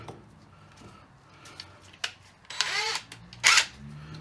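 An impact wrench fitted with a 9/16 socket works a nut on a mobility scooter wheel, giving two short, loud rattling bursts about a second apart over a quiet room.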